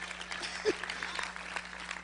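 Light applause from an audience, a steady patter of many hands clapping at moderate volume, with faint voices mixed in.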